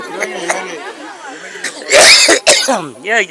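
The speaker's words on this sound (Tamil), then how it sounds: "ஜூஸ் குடிச்சா இருமல் வருது." A burst of harsh coughing breaks into close conversation, followed by more talking.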